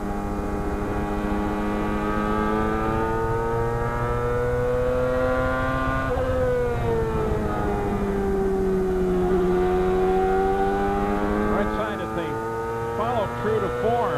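On-board engine note of a 2001 CART race car at Nazareth, a loud continuous high-revving drone whose pitch rises and falls through gear changes and throttle, steady and close throughout.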